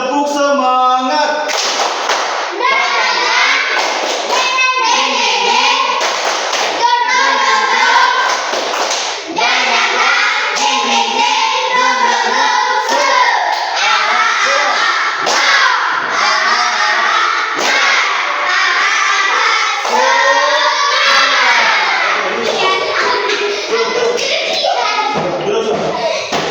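Schoolchildren in a classroom doing the tepuk semangat spirit clap, a loud group chant with rhythmic clapping and thumping that keeps going for a long stretch, many young voices near.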